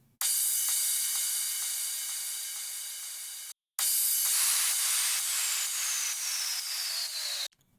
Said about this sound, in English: And then on top of that, we have a crash sound